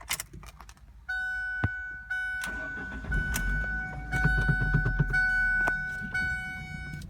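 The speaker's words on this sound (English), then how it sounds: "we'll start the car, turn the air on" A manual-transmission car engine cranks briefly and catches, then settles into a steady idle with a faint tonal hum and a few clicks and knocks nearby.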